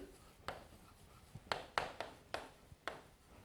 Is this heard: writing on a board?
yes